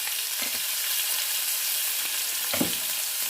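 Salmon fillet frying in a pan, a steady close sizzle with a few brief louder spits and crackles as the fish cooks, no voices.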